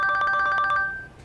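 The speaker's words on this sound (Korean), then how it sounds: "빨리 전화 받아야지" Phone ringtone: a quick run of bright, repeating melodic electronic tones that rings loudly for about a second, then fades out.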